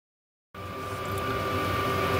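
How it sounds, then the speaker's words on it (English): A diesel heater hums steadily in a workshop, a constant mechanical drone with a faint tonal whine that starts abruptly and continues alone at low level. "If you can hear that humming in the background, that's my diesel heater."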